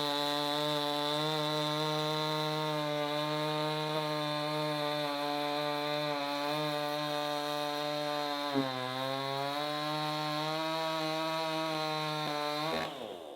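A $250 chainsaw cutting through wood, a loud steady high-revving engine whine held for over twelve seconds, with a brief dip in pitch midway as the chain bites, then a sudden cutoff at the end.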